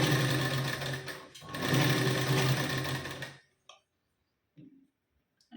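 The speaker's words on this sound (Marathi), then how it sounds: "अशी सरळ आपल्याला आता शिलाई देऊ." A sewing machine stitches a blouse seam in a fast, continuous whirring run for about three seconds, briefly pausing near the middle, then stops, leaving only faint handling noises.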